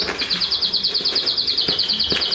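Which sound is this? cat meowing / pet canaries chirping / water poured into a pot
pet canaries chirping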